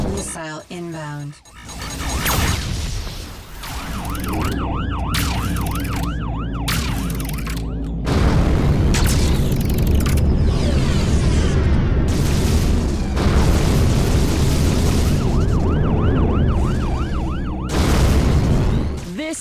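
A pulsing missile warning alarm in the Rebel Galaxy Outlaw space combat game, wailing repeatedly over engine rumble and a deep explosion, with spoken voices running through.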